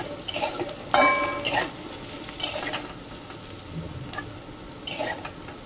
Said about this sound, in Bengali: ভেন্ডিটা ভাজা আছে, আর এই মিক্স সবজিটা রুটি দিয়ে তো দারুণ লাগে